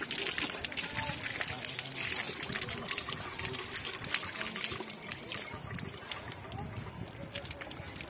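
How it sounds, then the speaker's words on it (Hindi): Hands and face splashed in a cold mountain stream along the Kedarnath route, with steady rushing water and spatter filling the whole stretch at close range. "यहाँ पर हम लोग हाथ मुँह धोएंगे, काफ़ी ठंडा पानी"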